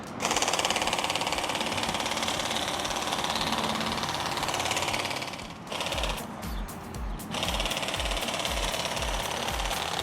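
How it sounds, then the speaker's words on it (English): A Fanttik Z10 Pro cordless hedge trimmer runs on Max mode, cutting across the top of a bush with a steady, loud buzzing drone that dips briefly mid-clip before resuming. "Now I have the hedge trimmer attached, so let's see how it does."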